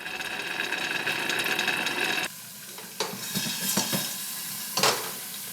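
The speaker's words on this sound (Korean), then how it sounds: "화이트 와인을 팬 가장자리에 이렇게 둘러서 바로 뚜껑을 덮어서 익혀줄게요" Clams with white wine poured around the edge of a hot pan for vongole pasta, then covered with a lid: loud steady sizzling that drops sharply as the lid goes on, followed by softer bubbling and a few clinks.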